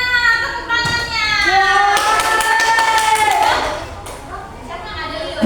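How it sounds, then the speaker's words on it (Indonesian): Students in a classroom burst into a few seconds of brisk clapping, mixed with loud overlapping children's voices calling out. "tepuk tangannya"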